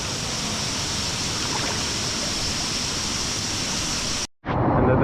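A waterfall and stream pour steadily on a rocky hiking trail on Koh Samui, Thailand, a loud, close, continuous rush that cuts out abruptly near the end and then resumes.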